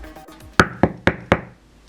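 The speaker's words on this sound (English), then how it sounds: "sensor so that it can pick up the door knock and go off" Four sharp knocks strike a door at an even pace to test a homemade knock sensor, each rap crisp and close with a short decay. Quiet room tone fills the moments before and after.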